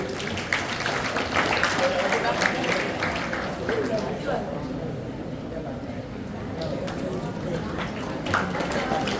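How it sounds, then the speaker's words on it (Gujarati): Applause from a crowd at a school farewell for a teacher, dense clapping that swells and fades over several seconds, mixed with chatter and voices. "તાળીઓના ગડગડાટથી વધાવી"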